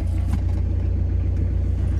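Steady low engine rumble from inside a moving truck cab in Gabon, continuous and close, with faint road noise and no talk.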